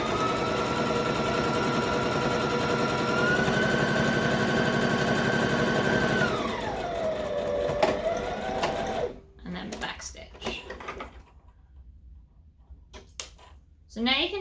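Close, steady drone of a sewing machine stitching a fabric dice bag, winding down after several seconds, followed by soft handling clicks and rustles as the fabric is moved.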